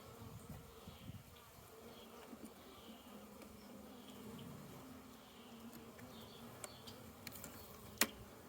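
Honey bees, with VSH breeder queens, crawl calmly over a hive frame, giving a faint, continuous buzzing hum with occasional small ticks and knocks close by.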